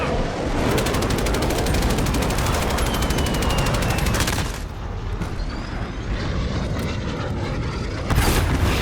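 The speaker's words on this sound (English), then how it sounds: "recon flyover!" Call of Duty Modern Warfare gameplay: a loud, steady roar of a recon flyover aircraft sweeps overhead amid dense gunfire and game effects.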